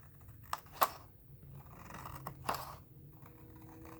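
Scissors snip through paper for a shabby lace envelope in a few faint, separate cuts, with small scrapes and handling noise between them and no talk.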